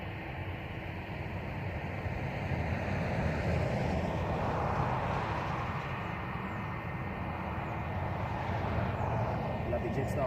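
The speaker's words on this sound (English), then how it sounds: "Lovely Jetstar off to Melbourne this morning" Jetstar jet airliner departing Christchurch Airport for Melbourne, a broad, steady jet-engine roar swelling slightly in the middle, with a voice talking over it.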